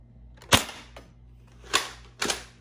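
An Adventure Force Conquest Pro foam dart blaster firing three shots through a chronograph, each a sharp, close, snappy pop, the first two about a second apart and the third following quickly, with no talk.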